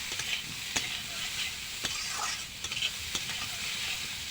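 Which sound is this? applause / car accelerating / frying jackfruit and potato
frying jackfruit and potato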